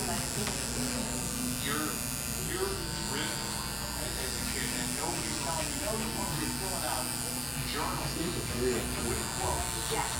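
Electric hair clippers buzz steadily and close while cutting a bald fade, their whirring tone holding constant with faint snips of hair-cutting texture throughout.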